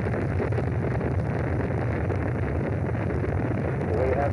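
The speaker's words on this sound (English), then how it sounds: "We have ignition sequence start. The engines are on." Apollo 11 Saturn V rocket engines at liftoff, a continuous, heavy broadband roar that fills the whole clip at steady loudness, dense and rumbling with no breaks.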